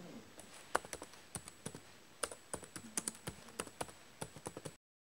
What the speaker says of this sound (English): It has this really springy motion into it, and you can feel the bounce on your fingers when you are typing something.